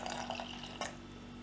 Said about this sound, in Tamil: இப்போ நான் தண்ணி ஆட் பண்ணிடுறேன் இதில்.